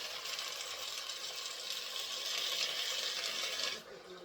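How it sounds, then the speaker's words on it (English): Tap water running into a pot to cover a brisket, a steady close hiss and splash that eases off near the end, with no talk over it. "Water, I'm going to cover this brisket now, right?"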